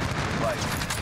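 AK-47 fire in the shooter Modern Warfare crackles as a rapid continuous burst, loud and close, filling the whole short moment without pause.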